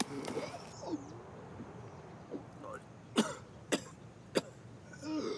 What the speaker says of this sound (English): I get so fucking high key triggered and annoyed by this wheezing, coughing shit